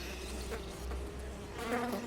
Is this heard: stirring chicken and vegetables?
no